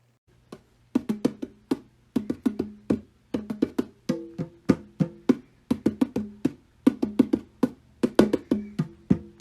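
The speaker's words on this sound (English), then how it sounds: "I am playing the bongos." Bongos tapped in quick, crisp patterns of short bright hits, grouped in bursts with brief pauses, close and fairly quiet, with no talking.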